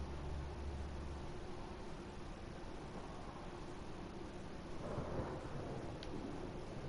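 Thunderstorm in Mass Effect Andromeda: steady roaring rain and wind with a deep low rumble of thunder at the start, another swell of thunder building near the end, no voices.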